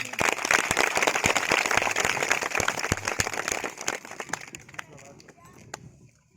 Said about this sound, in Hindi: उनका हम तालियों के साथ स्वागत करेंगे